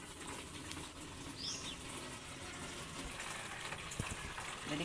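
Water runs steadily from a tap in a rural household, a continuous close gushing hiss with no talk over it.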